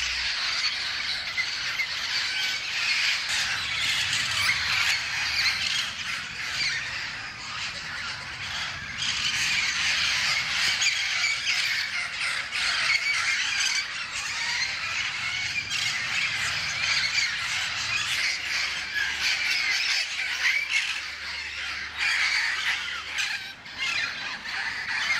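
Flock of Amazon parrots squawking and calling while bathing in rain, a dense, continuous chorus of harsh calls over steady rainfall noise throughout.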